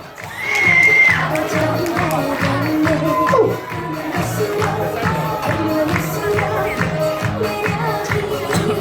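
Parents in the audience at a daycare children's class performance cheer and clap, a loud, steady crowd roar with excited shouts over a regular rhythmic beat that runs through the whole stretch.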